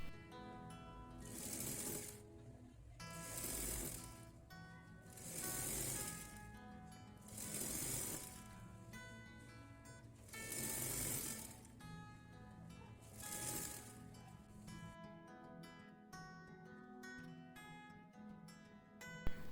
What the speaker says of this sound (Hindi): दूसरी साइड भी हम ऐसे ही फिटिंग सिलाई कर देंगे।